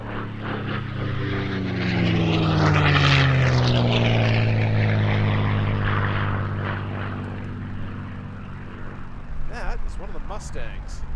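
P-51 Mustang propeller planes flying at the Reno Air Races, one sweeping close overhead with a loud droning engine and falling pitch, then receding, as a person talks.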